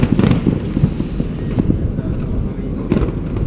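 New Year fireworks pop and crackle in the distance, with scattered bursts over a murmur of nearby people talking.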